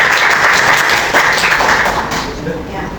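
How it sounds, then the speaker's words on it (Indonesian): Students in a classroom clap for group 5, a sustained patter of applause with voices talking over it that thins out toward the end. "beri tepuk tangan kelompok 5"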